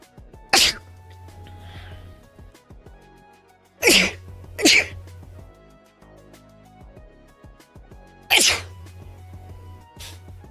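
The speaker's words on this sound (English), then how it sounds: "I have a sneeze." Three sharp sneezes burst out at intervals, the middle one a quick double, over a quiet background of soft music.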